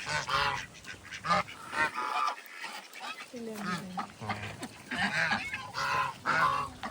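Geese and ducks at a mini zoo near Nandi Hills in Bangalore, honking and quacking repeatedly in bursts close by, with people talking over them.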